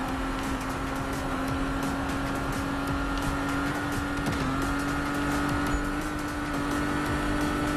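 Racing car in the PC game Need for Speed, engine droning loud and steady throughout with a rising whine, tire squeal and skidding as it holds the racing line.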